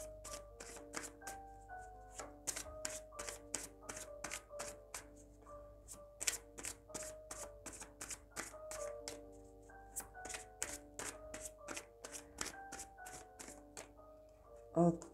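Tarot cards being shuffled by hand produce rapid, crisp riffling and snapping bursts in quick repeated runs, close and fairly quiet, with a soft hum underneath and no speech.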